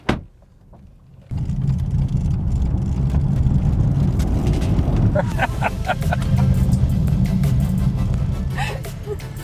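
In a car park, a car door thuds shut, then the engine starts and the car pulls away and drives off, a rising engine rumble with brief rattles, heard close.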